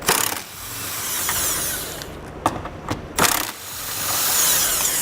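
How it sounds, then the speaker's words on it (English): A 14mm socket on a ratchet loosening the factory tow hook bolts on a 2008 Lexus RX 350, heard as a few close metallic clicks and clanks against a steady background hiss, with no talking. "Now we'll take a 14mm socket and remove the factory bolts."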